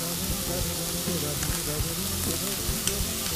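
Chopped onion sprinkled with salt sizzles and fries steadily in a pan, a continuous close hiss with no talking.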